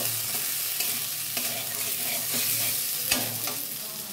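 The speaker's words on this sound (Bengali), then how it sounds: "জাস্ট আমি সামান্য নাড়াচাড়া করে নিচ্ছি।" Cabbage sizzles steadily in a hot pan, with occasional spatula scrapes and taps heard close up as it is stirred, and no voices.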